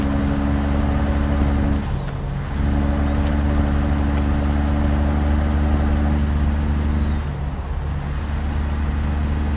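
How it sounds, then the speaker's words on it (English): A heavy American truck engine in American Truck Simulator drones with a steady low rumble, loud and close, with brief dips as the throttle lifts around gear changes and a high whine running above it. "the American trucks sound amazing"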